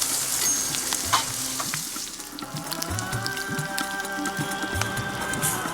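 Chopped onion drops into a pan of cumin seeds frying in hot oil for red lentil dal, bringing a loud steady sizzle with scraping stirs and clinks throughout, no voices.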